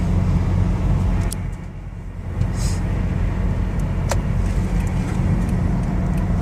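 Cabin of a 2014 Toyota Sienna L wheelchair van with an ATS conversion while cruising, carrying a steady low road and engine rumble with faint tire hiss and an occasional small rattle or click.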